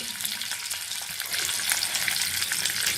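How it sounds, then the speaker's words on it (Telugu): Eggs frying in hot oil with salt, chilli powder and turmeric for an egg masala curry: a dense, steady sizzle and crackle that grows slightly louder partway through, with no voices. "ఎగ్స్ ఫ్రై చేసుకోవాలండి"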